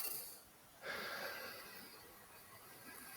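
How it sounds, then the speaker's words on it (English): A single deep breath is drawn in and released close to the microphone, a soft airy inhale and a longer hissing exhale in an otherwise quiet room. "Take a breath."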